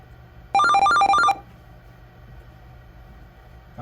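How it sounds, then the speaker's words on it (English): An alarm bell rings in one short burst of rapid, loud strikes during a system test of a pulse-station alarm, then stops, leaving quiet room tone. "Got the alarm."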